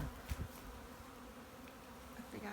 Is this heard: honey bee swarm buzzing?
yes